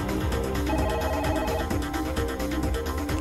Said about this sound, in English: I like that they added the actual phone ring.